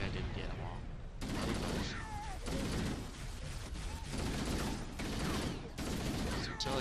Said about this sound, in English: I'm just going to use my assault rifle to pull these guys down